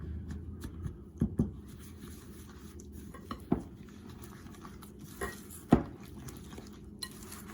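Blueberry muffin batter is being stirred in a bowl, with scattered clinks and knocks of a utensil against the bowl over a quiet background.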